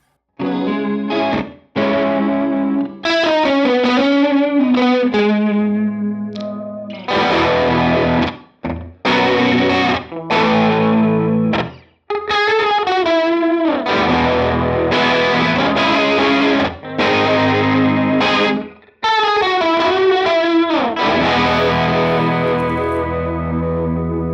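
An electric guitar runs through a Line 6 Helix ADT doubling effect, playing melodic phrases with a thick, chorused, slightly distorted tone and short pauses between phrases, loud and close with no talk.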